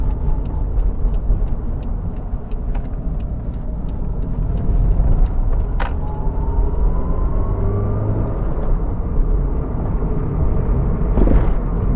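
A Toyota MR2 cruising along Palomares Road on a calm afternoon drive, its engine and road noise a steady, fairly loud drone from inside the car, with a brief rising whine partway through and no talking.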